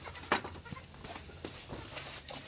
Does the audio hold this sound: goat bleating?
yes